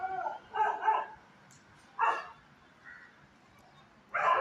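A dog barks from below in short, sharp bursts, three separate outbursts with quiet gaps between them, heard fairly near.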